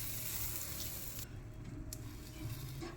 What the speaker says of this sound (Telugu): బటర్ రాస్తున్నాను పెనానికి.